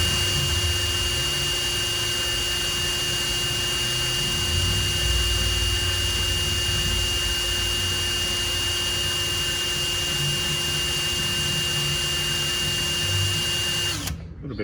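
A power drill spins steadily, twisting wire strands into a fused Clapton coil, with a loud continuous whine and a constant high tone that cuts off abruptly near the end.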